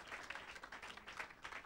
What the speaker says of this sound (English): let's clap for this girl here. Clap for her